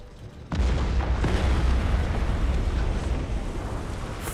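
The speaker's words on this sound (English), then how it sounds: "4 hits with torpedoes?" Torpedo hits explode in the space-combat game Battlefleet Gothic Armada 2, a sudden deep boom that bursts in after a brief lull and then rolls on as a sustained, loud rumbling roar.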